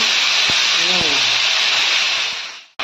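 Potatoes frying in hot oil with a cumin tempering, a loud close steady hiss and sizzle that fades toward the end, with a short voice sound near the start.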